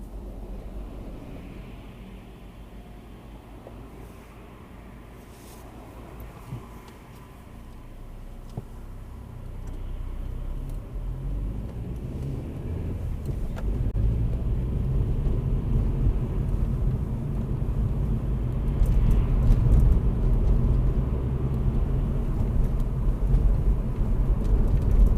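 A car pulling away on a driving test route near Church Brampton, Northampton, its engine and road rumble building steadily from quiet idle to a louder, sustained drone as it gathers speed, with no talk.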